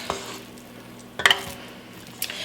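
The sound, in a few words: meatloaf mixture being scooped into a pan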